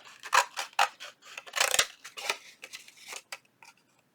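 Scissors snipping through paper ephemera for a junk journal, a close run of quick, uneven crisp cuts and rustles with short pauses between strokes.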